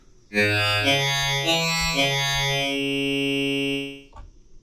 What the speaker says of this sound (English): second is a more modern FM sound that sounds like this